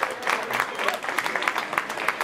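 A crowd applauds at a cosplay contest final, fairly close, with brisk clapping and scattered sharper claps, and a bit of cheering mixed in.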